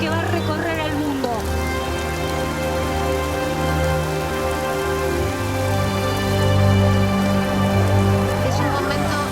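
Rain falling on a football pitch during a goal celebration at a World Cup match, a dense continuous patter with crowd noise under excited commentary.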